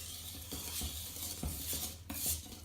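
About four tablespoons of whisky being stirred into Cranachan cheesecake mix in a bowl, with a steady run of soft scraping and light utensil clinks against the bowl, close by and with no talking.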